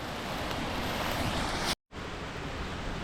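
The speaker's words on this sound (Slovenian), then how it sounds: "spodaj pa tale čudovit slap" A waterfall on an unnamed stream in a gully roars as steady broadband rushing noise, close and loud, with a brief dropout midway and no talking.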